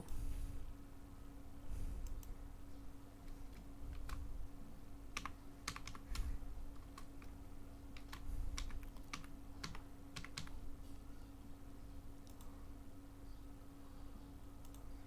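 Keys clack on a computer keyboard in short, irregular bursts of typing, faint and close, over a steady low hum.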